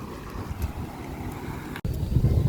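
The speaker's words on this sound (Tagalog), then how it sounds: "Ewan ko kung narinig nyo ako. Mahangin." Wind buffeting a phone microphone outdoors at a sports complex in Batangas, a low rumbling roar that drops out for an instant before surging back louder.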